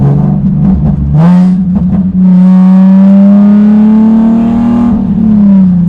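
A Nissan 370Z Nismo with a manual transmission and rear-wheel drive accelerates hard, its engine note rising smoothly in pitch after a brief shift, a loud close droning roar with strong harmonics and no talk.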